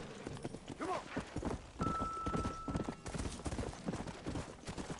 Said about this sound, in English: Come on, you silly horse.